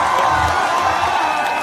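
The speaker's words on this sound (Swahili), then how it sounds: "Wapi makofi ya wanafunzi?" Students at a live school event applaud and cheer, making a thick, continuous roar of clapping and raised voices from a crowd.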